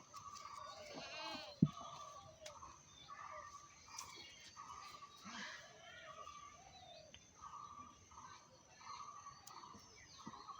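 Goats on a farm bleat during their afternoon feeding, several calls repeating over a few seconds close to the microphone, with birds chirping around them and a person speaking now and then.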